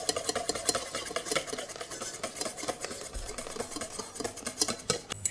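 A utensil stirs orange juice and cornstarch filling for an orange meringue tart in a saucepan, giving a steady, continuous scraping and swishing with rhythmic clinks against the pan, close and moderately loud.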